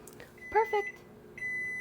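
A kitchen timer beeps after muffins finish baking, a short series of two or three clear electronic tones close by in a quiet kitchen, with a faint steady tone lingering after.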